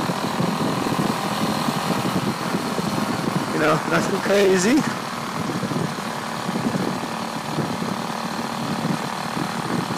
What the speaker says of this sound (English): This is a high revving motor, or it's supposed to be.